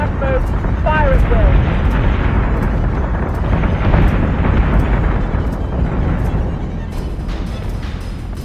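Missile fire and explosions boom in the space combat game Battlestar Galactica: Deadlock, forming a continuous dense rumble of blasts with sharp pops and short whistling tones near the start, loud throughout and fading slightly at the end.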